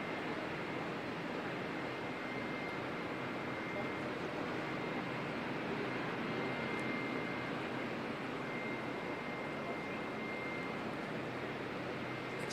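A Jetstar airliner arriving from Queenstown at Auckland Airport gives a steady, broad engine roar that holds at an even, moderate level throughout, with no clear rise or fall and no voices over it.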